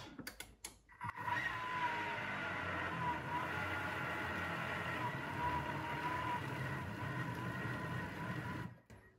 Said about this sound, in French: Et je vais remixer de nouveau à vitesse 7.